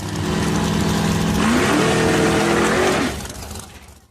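A 1972 Firebird Trans Am and a 1969 big-block Camaro SS in a pure stock drag race, engines roaring loud and close as one winds up through the revs, shifts with a rising pitch, then drops off sharply near the end.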